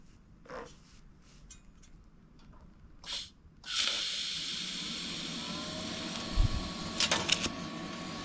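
A Hobart Multi-Handler 200 TIG welds at 45 amps. A few faint clicks and shuffles are followed by a steady, close arc hiss that holds to the end with small crackling bumps.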